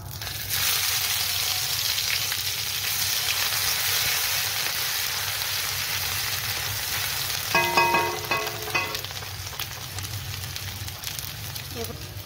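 Crushed ginger and garlic go into hot oil already spiced with cardamom, cinnamon and bay leaves, giving a steady close sizzle with a brief louder burst of spattering and stirring partway through.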